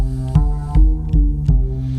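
A deep, rounded synth bass built from pulse, triangle and sine oscillators, with the pulse an octave down and the filter set low, plays a steady pulsing pattern of low notes, each with a soft attack, heard alone with no voices.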